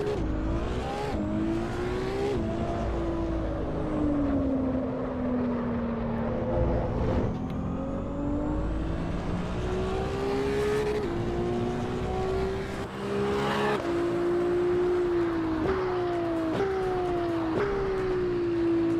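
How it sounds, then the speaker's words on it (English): Stock race car engine in the sim racing game Assetto Corsa EVO, a loud steady drone that climbs through the revs and drops sharply at each gear change, repeating for the whole stretch with no talk over it. "Stock car sounds pretty good"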